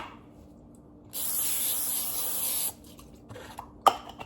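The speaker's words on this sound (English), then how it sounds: "You're gonna spray it with cooking spray or whatever you use to grease" Cooking spray hisses from a can into a glass baking pan in one steady burst of about a second and a half, close and bright, followed by light handling sounds and a small clink.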